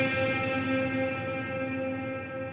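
Guitar reverb tail on a Line 6 Helix with low cut and high cut applied, a sustained chord slowly decaying into a smooth, steady wash, close and moderately loud, with the top end rolled off and no talking.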